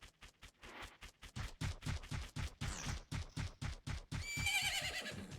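Horse in the video game Majora's Mask: steady, rapid clip-clop of hooves at a gallop, ending in a loud, shrill whinny over the last second, close and alone.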